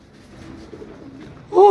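A racing pigeon gives a soft, low coo near the end, close by, after a stretch of quiet muffled background noise at a loft.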